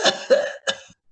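A player imitates a character's small cough with his voice: three short, close coughs in quick succession, then a faint trailing breath, with no other sound.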